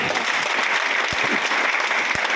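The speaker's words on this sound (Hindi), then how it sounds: "एक बार जोरदार ताली।" A business seminar audience breaks into hearty applause, a dense, steady wash of many hands clapping at once, close and loud with no talk over it.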